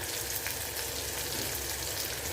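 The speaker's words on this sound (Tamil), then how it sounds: "இப்போ பார்த்தீங்கன்னா தக்காளி நல்லா வதங்கிடுச்சு" Chopped tomatoes sauté in an oiled pan for a mango, poppy seed and jackfruit seed curry, giving a steady, soft sizzle that carries evenly through the whole moment.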